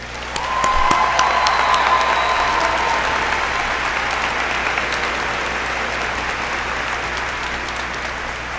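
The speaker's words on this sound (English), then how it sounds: "let us give a round of applause for the man who brought us together as a family, Mr. Bobby Surrey" Sustained applause from a large audience at a high school graduation ceremony, dense steady clapping with a few louder sharp claps, filling the room evenly throughout with no one speaking.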